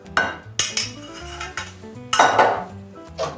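A spoon or whisk scrapes and clinks against a bowl while chocolate ganache is mixed, with irregular metallic taps and swirling strokes close up and no voices.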